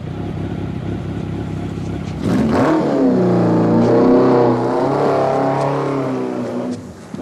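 A motorcycle engine starts with a sharp burst and revs up, droning loudly for a few seconds before fading out quickly as it drives away.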